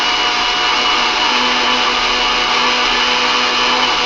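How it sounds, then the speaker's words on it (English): A kitchen blender runs loud and steady at full speed, its motor roaring continuously throughout while blending ingredients for a Philly cheese soufflé, with no talking. "So we'll blend her up. I'm going to let it run for about 2 minutes."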